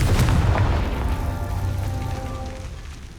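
A Confringo spell blast in Hogwarts Legacy lands as a heavy, booming explosion at the start, then a rumbling decay with ringing tones that fades over a few seconds.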